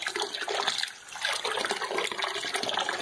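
Rinse water from washing alkaline aquarium substrate for an African cichlid tank, a steady close splashing and pouring wash that dips briefly about a second in, then runs on continuously.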